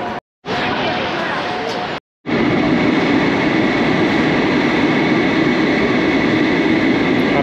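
Metro train in Algiers running steadily with a continuous loud rumble and broadband rush after brief dropouts at the start, with faint voices in the carriage.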